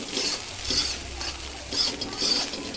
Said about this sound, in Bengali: এবার দেখুন মশলাটা আমি খুব ভালো করে কষিয়ে নিচ্ছি।